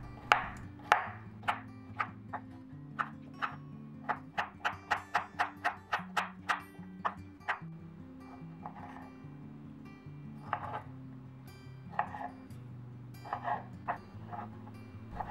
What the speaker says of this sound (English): We'll start by cutting the cucumber into small cubes.